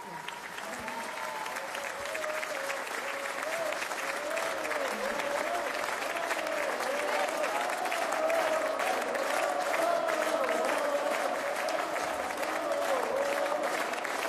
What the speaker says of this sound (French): Je voudrais qu'on fasse un tonnerre d'applaudissements à toutes les personnes, toutes les équipes qui ont travaillé sur ce beau projet